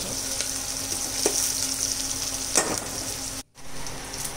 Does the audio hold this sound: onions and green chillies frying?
yes